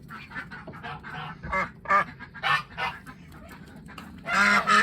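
Geese honk repeatedly as they are chased around their house, a string of nasal calls close by. The honks grow louder and denser at the end.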